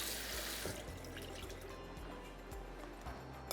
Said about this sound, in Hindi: और ये पानी फेंक देना है।